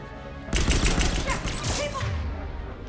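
Pistol fire in Mass Effect 3 combat, a sudden burst of sharp shots starting abruptly and continuing rapidly for about a second and a half, then tapering into a lower rumbling tail.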